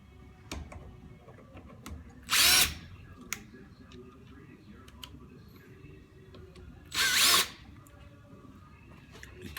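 A power drill fires in two short, loud bursts about five seconds apart while a Graco Fireball 300 5:1 pump is taken apart, with quiet clicks and shop noise in between.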